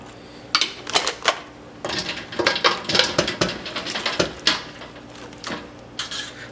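Hot crab legs clatter into a metal serving pot for a family seafood dinner, a series of sharp metallic clinks and knocks coming in irregular bursts, close and fairly loud with no talking.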